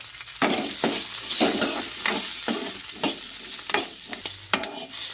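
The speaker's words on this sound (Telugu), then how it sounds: "ఇవి కూడా ఇదే నూనెలో మంచిగా ఫ్రై అయ్యేటట్టు రోస్ట్ చేసుకోవాలి." Green chillies roast and fry in hot oil, with steady sizzling under a run of repeated scraping stirs close by; no voices.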